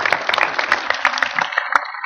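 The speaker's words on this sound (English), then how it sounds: "a big round of applause and welcome New York Institute of Technology" An audience applauds to welcome New York Institute of Technology at a wearable tech event, dense steady clapping lasting throughout with a few sharper individual claps standing out near the end.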